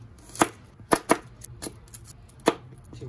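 A knife chops leftover garlic on a board for a garlic pepper steak, giving five or six sharp, close taps at an irregular pace against a quiet room.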